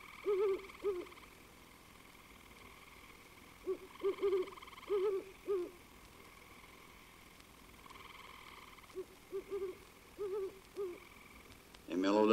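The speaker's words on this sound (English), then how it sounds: "In the distance, a horned owl gives his less varied hoots." A great horned owl hoots in short groups of deep, muffled notes from far off, repeated several times over a steady night chorus of frogs.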